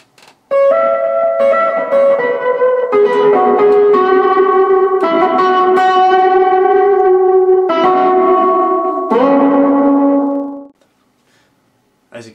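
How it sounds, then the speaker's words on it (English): An electric guitar played through an amp with reverb added: a series of strummed chords and picked notes, loud and close, each ringing with a spacious wash before a final chord fades to near silence. "the next effect I'll add will be some reverb"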